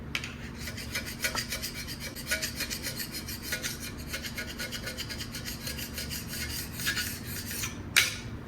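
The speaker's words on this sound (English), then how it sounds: "this is where this super scraper really shines" A scraper rasps across the cylinder head surface of a 5.9 Cummins engine in quick, continuous back-and-forth strokes, close and fairly loud throughout, ending in a sharper scrape.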